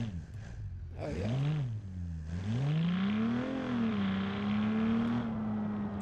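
A supercharged car engine in the BeamNG driving game cranks and fires up, then rises and falls through several revs before settling into a steady, loud drone with a faint supercharger whine.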